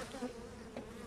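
Honey bees buzz around a hive during an inspection, a steady faint drone with a couple of brief louder passes as individual bees fly close, no voices over it.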